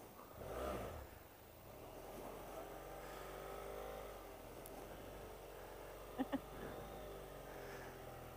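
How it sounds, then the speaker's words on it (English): Engine of a small car driving on a South Island road trip in New Zealand, a steady moderate drone with a buzzy, scooter-like tone, faint overall, with two quick clicks near the end. "It sounds like a scooter, this thing"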